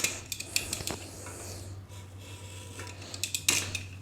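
A blade cutting vinyl floor covering just above the edge where floor meets a column in a bathroom, with short scraping and snipping strokes close by, bunched at the start and end, no talking.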